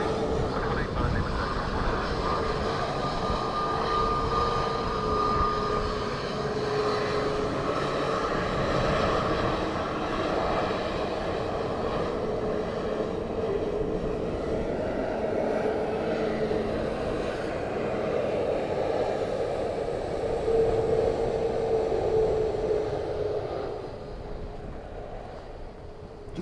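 An airplane roars steadily on its landing at Dublin Airport during Storm Floris, a broad continuous engine rumble with wind that fades slightly near the end.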